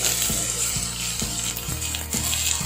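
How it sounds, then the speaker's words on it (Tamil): Onions for a Tamil fish curry sizzle steadily in hot oil, with regular stirring strokes scraping the pan about twice a second, close and alone. "நல்லா பொருளமாக கோல்டன் ப்ரௌன் ஆகணும் அது வரைக்கும் நம்ம நல்லா வதக்கி விட்டுட்டே இருக்கலாம்"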